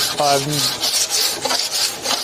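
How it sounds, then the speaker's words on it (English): A hand file rasps across a heat-shrunk metal panel in a series of steady, close strokes, each scrape a short gritty burst with brief pauses between. "try and file in a star pattern"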